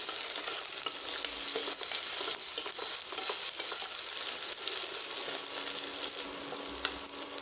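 Chopped onion and curry leaves frying in a pan make a dense, even sizzle close by, with light stirring scrapes and a faint steady hum underneath.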